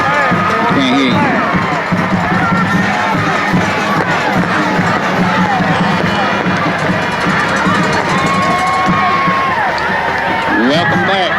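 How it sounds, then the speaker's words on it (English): A large crowd cheers and shouts in a continuous loud roar at Warrior Stadium before a high school football semifinal, with voices talking close by throughout. "A huge crowd on hand at Warrior Stadium."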